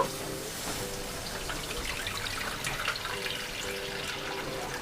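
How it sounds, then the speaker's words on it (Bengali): Water poured into a pot for boiling pasta, a steady trickling, splashing stream heard close and continuous throughout, with no voices. "এবার বয়েল করার জন্য জল দিয়ে দেব"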